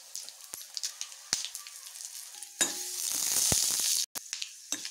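Whole cumin, cloves, black pepper, coriander seeds and bay leaf hit hot oil in a pan for tomato soup, a quiet crackle swelling into a bright, sustained sizzle with scattered pops, then a brief cutoff.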